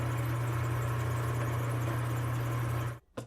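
Close, loud electric lathe motor turning a punch body, a steady low drone with whiny overtones and slight squeal, stopping sharply before a brief restart.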